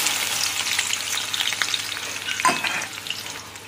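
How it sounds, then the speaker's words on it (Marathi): Finely chopped onion sizzles in hot oil at the start of a chicken masala, a continuous close frying hiss with small crackles and one brief stirring clatter near the end, no talk. "आता आपण कांदा बारीक चिरून घेतलेलं ह्याच्यात टाकूया"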